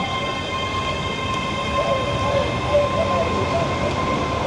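Train ride to Edinburgh heard from inside the carriage: a continuous rumbling roll of wheels on rails with a steady whining hum, with no talk over it.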